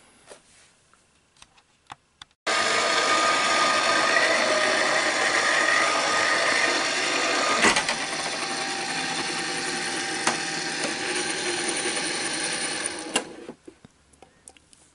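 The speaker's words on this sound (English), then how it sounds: "So I'm just going to place this through my machine, and it's going to go through and give that impression." A die-cutting and embossing machine such as a Sizzix or Cuttlebug has paper flowers cranked through it, giving a steady, loud mechanical grinding and whirring that runs for about eleven seconds before stopping abruptly, with faint clicks around it.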